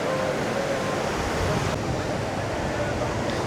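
Ocean waves washing on a beach, a loud, steady roar of surf with wind buffeting the microphone throughout.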